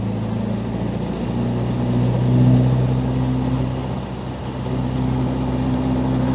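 A 1925 Austin Seven with a 747cc long-stroke engine drives along in winter, its loud steady drone swelling and easing slightly as it moves, with no voices.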